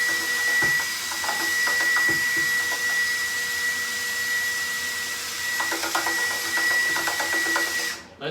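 A sanitized power drill whirs steadily for about eight seconds, stirring sugar into grapefruit wine, with a continuous mechanical hum and faint rattles before it cuts off abruptly at the end.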